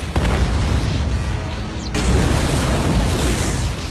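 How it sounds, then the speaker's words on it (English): A grenade explodes in a sci-fi creature film, a loud close boom with a sharp burst at the start and a second blast partway through, followed by heavy rumbling debris. "Kate pulls the pin and throws the grenade straight into the alien's mouth"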